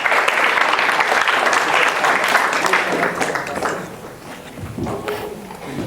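An audience at a DevOps meetup breaks into applause, a full, close patter of clapping that holds for a few seconds, then thins out and fades with scattered claps and room noise.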